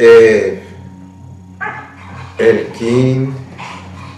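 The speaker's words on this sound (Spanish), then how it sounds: "aquí con los perritos, disculpen el ruido y el sonido también de fondo" Dogs bark and yip in the background of a home, with several sharp barks and some whimpering rising over a person speaking nearby at moderate loudness.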